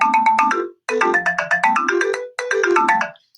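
A Song Maker melody of bright, synthetic electronic notes plays in quick runs that step between high and low pitches, in three short phrases with brief gaps between them.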